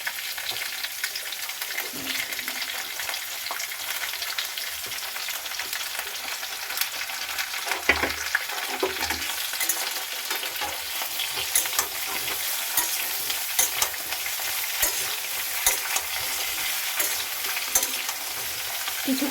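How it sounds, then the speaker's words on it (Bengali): Mixed vegetables with ridge gourd and pointed gourd stir-frying in a pan: a steady close sizzle broken by repeated scraping stirs, with no talking. "সব সবজিগুলো দেবো আর ভাজতে থাকবো। এবার দিয়ে দিচ্ছি ঝিঙেটা আর পটলটা।"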